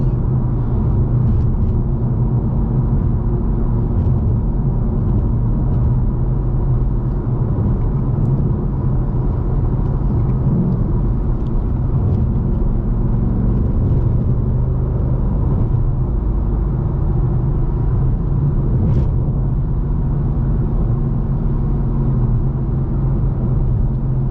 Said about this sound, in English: Let's go put our exhaust into sport.